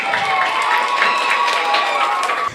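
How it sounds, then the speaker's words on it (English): Children applaud at the end of a classroom journalism lesson, a dense steady patter of clapping mixed with light cheering that runs fairly close and unbroken for the whole stretch. "Give yourselves a round of applause."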